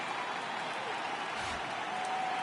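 A stadium crowd in MLB The Show 18, waiting for the Los Angeles Dodgers to take the field in the World Series: a steady wash of cheering and applause with a faint voice in the background.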